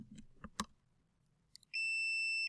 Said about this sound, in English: this is what we call a continuity tester